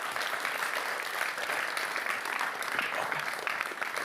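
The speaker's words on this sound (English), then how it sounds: "Really a big round of applause to them" An audience at a quantum light and matter workshop gives a big round of applause, steady, dense clapping from a crowd throughout, with no break.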